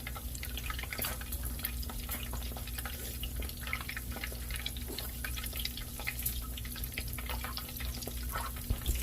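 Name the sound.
apple fritters frying in rendered lard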